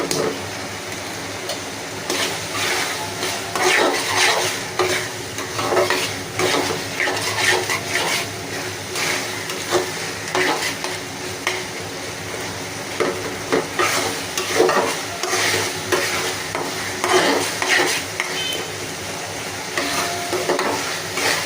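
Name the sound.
dried fish (shutki) cooking in a pan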